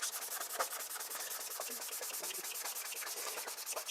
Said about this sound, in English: get some sandpaper, and just really gently sand down